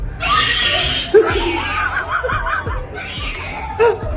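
A woman screams in fright at a mouse in short, high bursts mixed with giggling and laughter, close and fairly loud.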